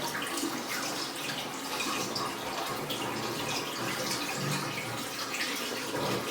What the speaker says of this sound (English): Now we're going to keep pouring. It's going to go down that tube and fill the Commode.